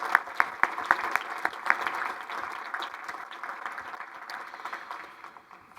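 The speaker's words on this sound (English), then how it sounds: "join me in giving them a round of applause" Audience applause at an energy summit, a dense wash of clapping with a few sharp individual claps standing out early, steady and moderately loud before gradually thinning toward the end.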